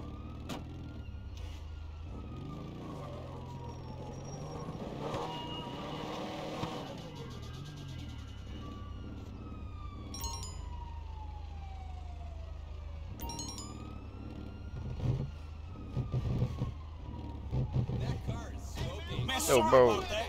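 Police sirens wail and sweep in the background of a Grand Theft Auto V scene with a 1977 Monte Carlo lowrider, with engine rumble, while voices talk over them.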